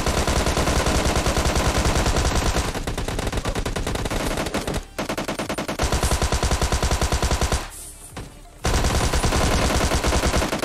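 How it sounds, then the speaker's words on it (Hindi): Rapid gunfire from a shooter video game, with bursts of automatic shots firing almost nonstop, loud and close, and two brief pauses in the barrage. "फायर साउंड आता है शायद, बंदे बहुत शॉट मार रहे"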